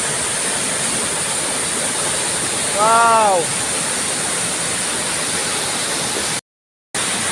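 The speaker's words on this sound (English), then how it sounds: "This is it, guys. The 7th Waterfall." Waterfall roar at the 7th Waterfall high in Philippine mountains, a steady loud broadband rush filling the whole clip; a voice exclaims briefly midway, and the sound cuts out for a moment near the end.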